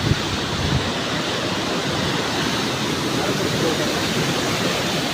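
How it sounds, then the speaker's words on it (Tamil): Water roars continuously through the historic Kallanai dam, a steady, full, close rushing wash that stays unbroken from start to finish with no voices over it. "தண்ணி ஆர்ப்பரிச்சு சவுண்டு எவ்வளோ சவுண்டு இருக்குது பார்த்தீங்களா?"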